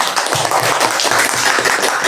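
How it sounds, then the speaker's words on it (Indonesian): Pupils in a classroom clap together in a quick, loud burst of applause lasting about two seconds, close and dense with no voices over it. "Oke, betul ya, tepuk tangan."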